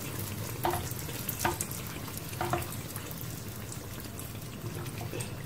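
Sugar beignets deep-frying in oil over medium heat, a soft steady sizzle and bubbling with a few louder crackles and pops spaced through, fairly quiet and with no voice.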